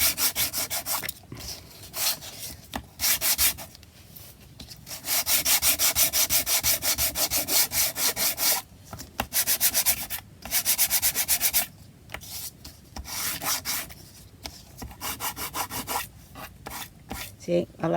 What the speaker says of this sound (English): I'm going to sand mine down.